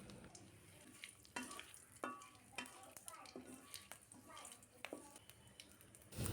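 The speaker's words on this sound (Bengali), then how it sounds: "এখন ফোড়নের জন্য আস্ত হাফ চামচ জিরা, 2টা তেজপাতা হালকা করে ভেজে নিব।" Whole cumin seeds and two bay leaves frying in hot oil: a soft, steady sizzle with repeated scraping stirs of a spoon in the pan, quiet and close.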